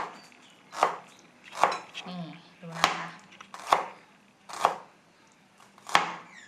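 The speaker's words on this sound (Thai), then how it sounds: "เวลาหั่นหอมนะคะ" Knife chopping shallots crosswise on a cutting board, six sharp, evenly spaced chops roughly a second apart, close and clear, with someone speaking briefly between them.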